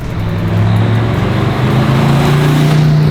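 A 2008 AC Cobra replica's engine drones loudly up close, pitch climbing steadily as it accelerates hard, with no voices.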